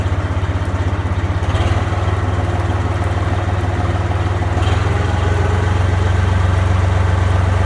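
A tractor engine throttled up while driving a star hay tedder, giving a steady, loud, continuous mechanical drone with a low rumble and whirring spin throughout, no voices.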